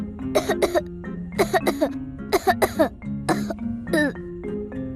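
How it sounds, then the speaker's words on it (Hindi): A young girl gives several short coughs in quick pairs and small bursts during a doctor's checkup, close by and fairly loud, with a brief voiced sound near the end. "जरा थोड़ा सा खांसना।"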